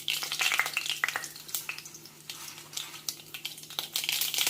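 Mustard seeds sizzle and crackle in hot oil for tamarind rice, a steady frying hiss broken by irregular sharp pops and spatters, heard close with no talk.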